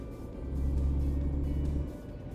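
A heavy truck engine in On The Road Truck Simulator labours uphill, a steady low drone that swells and then eases off near the end as the vehicle loses speed.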